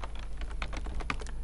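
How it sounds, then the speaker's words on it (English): Rapid keystrokes on a computer keyboard while writing VBA code in lowercase, a steady run of close, crisp clicks over a low hum, with no talking. "Notice I'm typing in lowercase."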